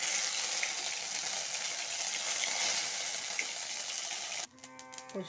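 Steady, bright sizzle of panch phoron frying in hot oil with bay leaves, broken by a sudden change as grated ginger drops in, then quieter crackling and a few clinks.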